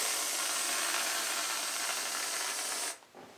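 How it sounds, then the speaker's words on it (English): Cool Whip topping sprayed from an aerosol can around the sides of a traditional Newfoundland trifle, a steady close hiss lasting about three seconds before cutting off, followed by a short faint spurt. "And we're going to top it then with a nice fancy spray of the Cool Whip."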